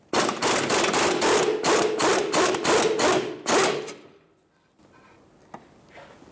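Rapid, loud impact wrench hammering on a 17 mm bolt of a 2013–2018 Toyota RAV4 rear upper control arm, a burst of close pulses for several seconds, then a stop, near-quiet and a faint clink.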